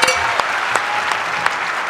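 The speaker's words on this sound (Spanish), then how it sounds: "Él es Diego Gasly, el del grupo Galé, que quería pues un aplauso para él." Applause from a television talk-show studio audience welcoming a member of the group Galé. Dense, steady clapping runs through the whole stretch at moderate loudness, with a few sharper claps standing out.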